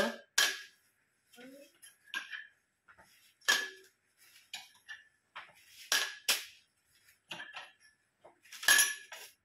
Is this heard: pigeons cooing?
no